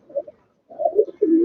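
A male pigeon coos close by, making two short, soft bursts of low throaty cooing with a brief pause between them.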